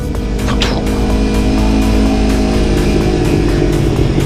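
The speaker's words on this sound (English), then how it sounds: "Downshifting, give it a little bit of brake." A motorcycle engine revs loud and close as the rider downshifts, with a sustained rough, buzzing engine roar that holds steady throughout the short stretch.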